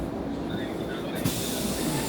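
A bus pulls up at a stop, giving a steady low engine rumble with a broad airy hiss and a brief brake or door burst partway through.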